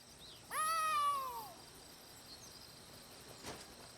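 A cat in Elder Scrolls Online's Elsweyr gives one clear, drawn-out meow that rises then falls, heard close over faint insect and cricket ambience, followed by a soft brief rustle.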